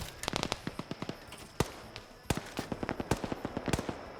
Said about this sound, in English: Where are we getting sniped from?